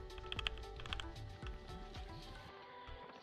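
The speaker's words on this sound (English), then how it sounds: "So now I'm going to click the keys, see if you can hear the difference." Computer keyboard keys are clicked close up in quiet surroundings. The presses come in irregular bursts of crisp taps and clacks, with a brief pause between groups.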